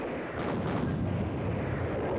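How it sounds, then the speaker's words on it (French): Massive German artillery bombardment at dawn in December 1944 during the Battle of the Ardennes: a dense, continuous rumble of distant guns with overlapping booms, steady and loud throughout, no talk. "les GI subissent soudainement un bombardement massif. 2000 canons allemands pulvérisent leur position."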